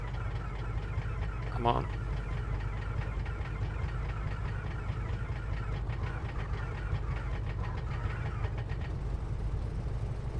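A light aircraft engine in Microsoft Flight Simulator 2024 rumbles low and steady after starting, with a brief spoken remark over the running motor.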